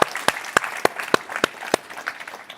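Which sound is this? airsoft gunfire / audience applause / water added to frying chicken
audience applause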